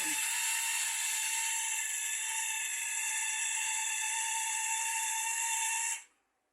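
A long-shaft geared reduction motor runs at a steady high-pitched whine with a constant hum for about six seconds, close and loud, then cuts off abruptly into silence.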